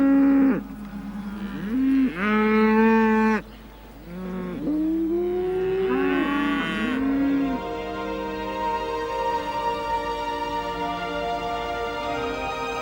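Fulani cattle in the Sahel low repeatedly, several long, loud moos from more than one animal following one another up close, with no voices.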